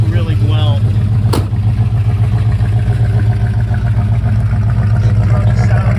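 A 1968 Mercury Cougar with MSD ignition and a custom tailpipe idles after starting, giving a loud, steady, throaty low rumble close by, with a brief sharp click early on.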